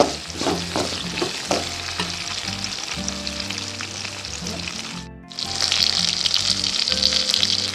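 Onions sauté and fry in a pan for sundal kuzhambu, a steady loud sizzle with stirring scrapes that briefly drops out before surging back stronger; no talk.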